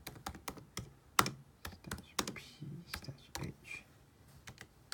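A MySQL command being typed on a computer keyboard in a terminal: a quiet, uneven run of key clicks with a few heavier taps, and a faint voice speaks briefly.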